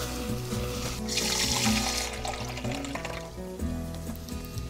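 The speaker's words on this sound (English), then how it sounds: "About a half a cup of water." Water poured into a pan of reducing tomato and chili, a broad splashing hiss swelling over steady simmering and sizzling, close and moderately loud, then settling back to a bubbling sizzle.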